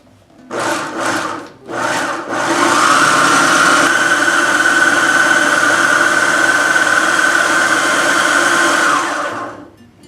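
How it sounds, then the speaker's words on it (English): A food processor blends basil pesto with about a quarter cup of olive oil. A few short whirring pulses come first, then a loud, steady grinding whine runs for several seconds before stopping. "Put the lid on the food processor and fire it up."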